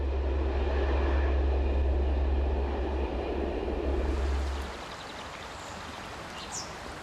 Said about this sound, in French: les trains ont perdu un bon tiers de leur vitesse lorsqu'ils pénètrent dans le long tunnel des Sauvages